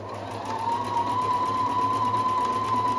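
A Husqvarna 330 electronic sewing machine stitches fabric with a steady, continuous motor whir and a fast, even needle rhythm, close and alone with no talk.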